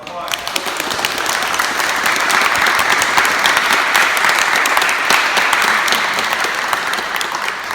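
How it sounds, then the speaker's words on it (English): Applause from a crowd at a basketball camp, steady and dense clapping filling the whole stretch without a break. "Give him a round of applause."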